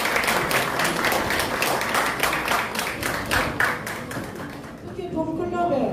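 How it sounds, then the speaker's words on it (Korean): Audience applause at a Lions Club 45th anniversary ceremony in a buffet hall, steady dense clapping lasting several seconds, with a voice speaking over it. "뜨거운 박수 부탁드립니다."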